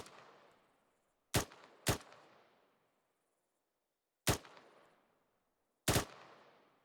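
Deliberate rifle fire from an infantry section shooting at a BTR armoured vehicle and dismounted infantry 200 meters south in a military training exercise: four sharp, loud shots, two close together then two spaced apart, each trailing into echo.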